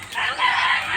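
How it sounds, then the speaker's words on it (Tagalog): Chickens at a dormitory yard cluck and call close by in a brief, dense burst, one drawn-out crowing cry standing out over the flock. "Manok."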